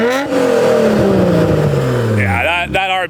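An RB26 engine swapped into a Nissan Silvia S15 revs loudly up close, the pitch sweeping down as the revs fall and then climbing sharply again near the end, with voices heard briefly over it.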